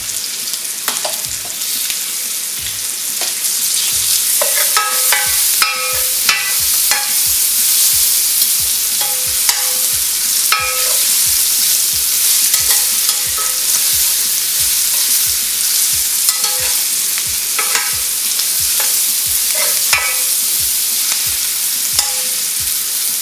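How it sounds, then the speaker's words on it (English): Chilies stir-fried in a hot pan for a fish and taro dish, a loud continuous sizzle with regular rhythmic spatula strokes and clanks against the pan, close and sustained, no talking. "Add our chilies."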